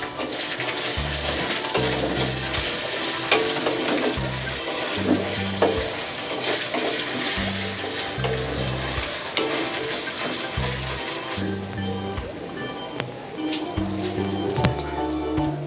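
Onion with a little salt sautéing in a pan for fish-head moong dal, a constant close sizzle with rhythmic scraping strokes of stirring and a low repeating thump beneath.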